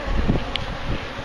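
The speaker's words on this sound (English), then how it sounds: "Bees are still everywhere. They're a little agitated because I ran out of smoke." Agitated honey bees buzz close by during a hive removal from a house in Wellington, Florida, a steady swarm drone with light wind and rustling, no voices.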